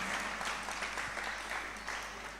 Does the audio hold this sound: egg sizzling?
no